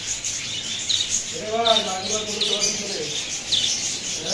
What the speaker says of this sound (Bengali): এই যে দেখুন অনেক সুন্দর বদ্রি পাখি, এটা হচ্ছে ডিম পাড়ার জন্য বসে আছে।